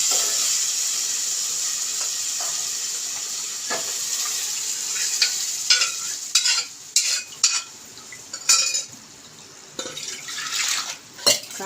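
Cooked dal is stirred into sautéed tomatoes in a pan for sambar, giving soft wet scraping and sloshing strokes in irregular bursts over a faint background hiss.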